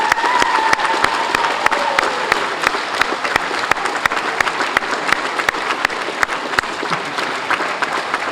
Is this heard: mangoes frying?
no